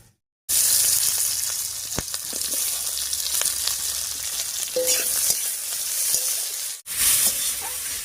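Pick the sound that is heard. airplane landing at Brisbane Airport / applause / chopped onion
chopped onion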